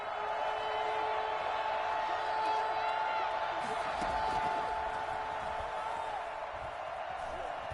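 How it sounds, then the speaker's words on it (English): A football stadium crowd roars steadily ahead of a big third-down play, a broad sustained wash of voices that swells slightly midway, with a commentator talking over it. "The crowd getting into it as we come up on a big 3rd down."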